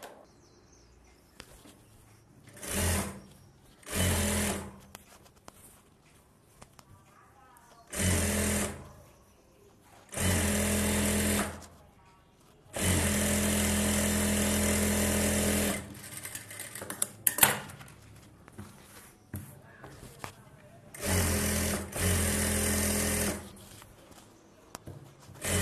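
A sewing machine stitches the folded lining of a pot neck blouse in repeated bursts of close, steady whirring, from short runs to one long run of several seconds, separated by quiet pauses.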